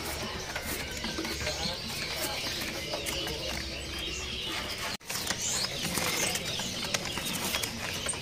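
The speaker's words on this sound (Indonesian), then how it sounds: "Ready juga burung kaso-kaso ya." Kaso-kaso birds call and chirp at a songbird kiosk in a market, repeated short calls over a steady, busy background hum with a brief sharp knock midway.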